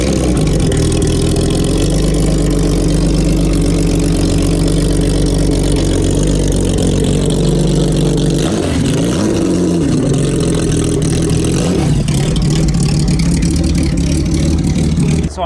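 A Jaguar D-Type sports car engine runs loud and close throughout, a steady heavy drone with shifting revs and a couple of dips and swells in pitch while driving.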